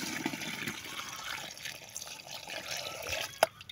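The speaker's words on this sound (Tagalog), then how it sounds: "Lagyan ko ng tubig ito." Water being poured into a hole in the ground in a rural yard, giving a steady low gurgling trickle throughout with a sharper splash or knock near the end, moderately close and alone.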